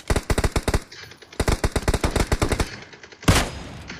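Gunfire in the PUBG Mobile video game: rapid bursts of automatic shots in quick runs with short pauses, then one louder, heavier blast near the end, all close and with no talk over it.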